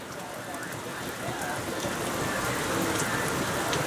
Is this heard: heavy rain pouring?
yes